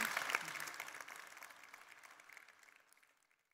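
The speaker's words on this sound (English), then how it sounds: "Please join me in giving a big applause to our panelists." Applause from a conference audience for the panelists at the close of a panel discussion, starting fairly strong with distinct claps, then thinning and fading out to quiet over a few seconds.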